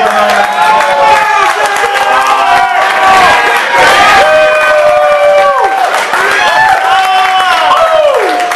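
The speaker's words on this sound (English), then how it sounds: "Give yourselves a big round of applause." A stand-up comedy show audience cheers and whoops loudly, with many raised voices and some clapping forming a dense, continuous roar that lasts throughout.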